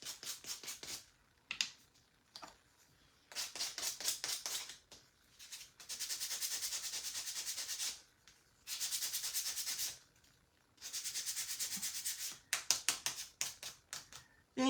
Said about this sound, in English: go a little bit around the edges for her face with my sanding tool